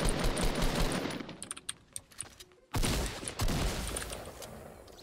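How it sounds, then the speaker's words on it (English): Gunfire in the Fortnite Battle Royale game, rapid bursts of shots with sharp cracks and clicks, dropping away briefly before another loud stretch of firing resumes. "There was somebody shooting at me though from that way"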